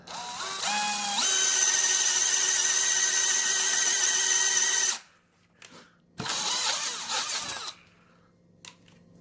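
A DCD985 brushed power drill with a side handle whirs loudly at full speed for about five seconds, then stops. Short mechanical clunks and a second burst of whirring follow.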